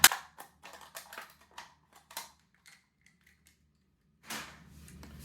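Scissors snip a section off a 10-ounce plastic cup in a string of sharp, crisp cuts and crackles up close, sparse and irregular, with a brief rustle near the end.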